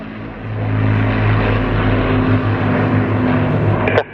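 Propeller aircraft of the Battle of Britain Memorial Flight at an Eastbourne air show drone steadily as they fly off, a sustained engine hum with no talk.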